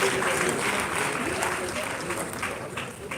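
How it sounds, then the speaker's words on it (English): Audience at a formal event recognising an archbishop breaks into a round of applause, loud, dense clapping from a large crowd that holds steady and tapers slightly toward the end. "Let's give him a round of applause"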